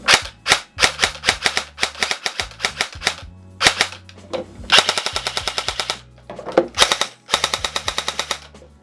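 A Lancer Tactical Enforcer LT-34 Battlehawk airsoft gun fires semi-auto in quick sharp cracks, single shots and fast strings of snappy pops, loud and near with no talk.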